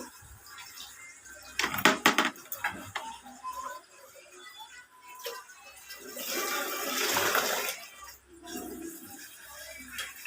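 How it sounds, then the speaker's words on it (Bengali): Water splashes and pours into a container indoors, a broad rushing wash building in the middle and fading, with a few clattering knocks of handling before it and no talking. "তো এখানে একটু জল নিয়ে নেব"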